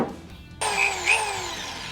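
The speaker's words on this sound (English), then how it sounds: "we're going to grab the big old hose saw and finish drilling out our sump." A power drill with a large hole saw spins up abruptly and grinds into the sump of a fuel tank on an L5P Duramax, a loud whining cut that surges once midway and keeps running.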